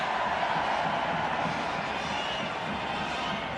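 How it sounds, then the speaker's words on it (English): Steady stadium crowd roar at a 2004 France versus New Zealand rugby test match, a broad continuous wash of cheering voices held at an even level with no break. "The crowd are loving this."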